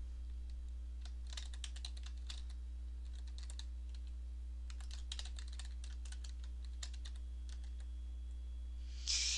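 Keys tap on a computer keyboard while a custom theme name is typed in Excel 2007, in soft bursts of quick keystrokes separated by pauses, over a steady low electrical hum.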